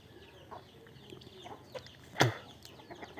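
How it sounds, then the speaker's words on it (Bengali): Village chickens and ducks cluck in short, scattered calls, one sharper squawk standing out above a quiet rural background, with no talking. "এখান দিয়ে হাঁস মুরগি আছে"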